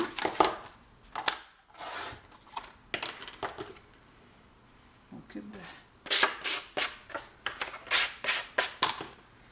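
Scissors cutting through two layers of scrapbooking paper at once for a Christmas pop-up album page: a run of crisp, close snips and rustles in a quick rhythm, with a pause and quiet handling noise between bursts.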